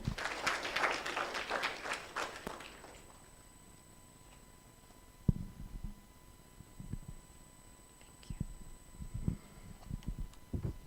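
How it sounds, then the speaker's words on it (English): An audience at a conference launch event gives a round of applause, a faint, distant patter of clapping in a hall that fades after a couple of seconds, followed by quiet room tone and scattered faint knocks. "A round of applause for him."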